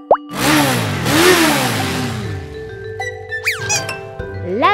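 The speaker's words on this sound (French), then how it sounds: "La moto." Motorcycle engine revving up and down in loud sweeping surges, close and alone, with a few short chirpy effects near the end.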